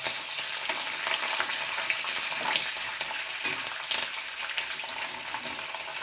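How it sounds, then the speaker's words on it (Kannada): Curry leaves and onion fry in a pan for kanda poha, a dense, steady sizzle close by with scattered crackles and occasional stirring noises throughout. "ಕರಿಬೇವು ಫ್ರೈ ಆಗೋಣ. ಉಳ್ಳಾಗಡ್ಡಿ ಹಾಕಿ"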